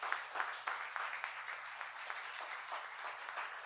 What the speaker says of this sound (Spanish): Bríndele fuerte aplauso al Señor.